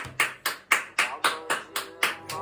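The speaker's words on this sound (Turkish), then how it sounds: "Alkışlıyoruz." Eight even, crisp hand claps in a steady rhythm close by, cheering on a one-year-old boy at home, with a voice faintly underneath near the end.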